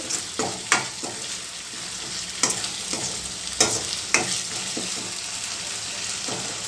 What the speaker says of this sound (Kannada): ಅದನ್ನು ಚೆನ್ನಾಗಿ ಎಣ್ಣೆಯಲ್ಲಿ ಫ್ರೈ ಮಾಡಬೇಕು